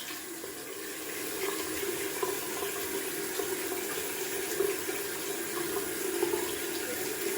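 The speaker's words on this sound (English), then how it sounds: "Just gonna splash the whole face." Sink water runs steadily as hands splash the face during a wet shave. The sound is a close, continuous wash of flowing water with small irregular splashes and no talking.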